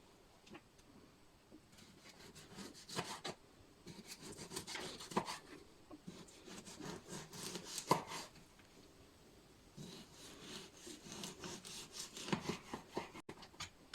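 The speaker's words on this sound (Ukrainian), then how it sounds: "нарізаю на шматочки" Knife slicing mackerel into pieces on a board in a home kitchen, a series of quiet rubbing, sawing strokes in irregular bursts, close and fairly faint, with no talking.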